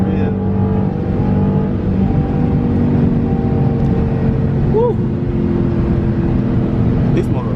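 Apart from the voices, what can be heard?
Dodge Scat Pack car engine accelerating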